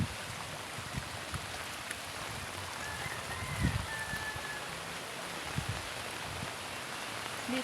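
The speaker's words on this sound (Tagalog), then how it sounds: "Sobrang lakas na talaga ng ulan." Heavy rain hisses down in a dense, even wash near a canal, with occasional heavier splashes and thuds, moderately loud and continuous.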